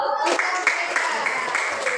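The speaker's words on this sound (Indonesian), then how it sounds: "Beri tepuk tangan dulu" A classroom of students bursts into applause at the teacher's request during an Indonesian language lesson, a dense, steady round of clapping lasting about two seconds.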